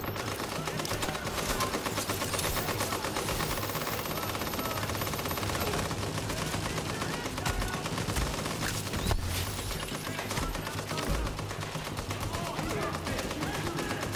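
Enemy machine gun fire in The Division, a dense, continuous rattle of rapid automatic bursts filling the whole stretch, loud and close, with players talking over it.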